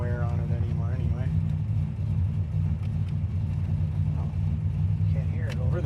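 The engine of a 1979 Pontiac Trans Am idles with a steady low rumble close by while someone talks over it and small clicks sound from the cabin.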